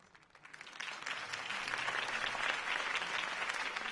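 Crowd applause at a campaign rally after a candidate's speech in the Batman Telltale video game, rising quickly from a soft start into dense, sustained clapping that holds steady to the end.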